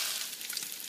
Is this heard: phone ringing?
no